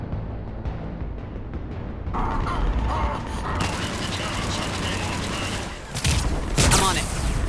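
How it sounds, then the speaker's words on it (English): Mechanical whirring, clanking and ratcheting as cannons power up in the Mass Effect 3 game on Omega, building steadily with sharp bursts near the end and occasional voices in the mix. "Cannons initializing."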